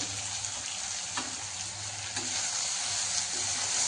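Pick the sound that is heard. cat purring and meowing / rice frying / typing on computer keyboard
rice frying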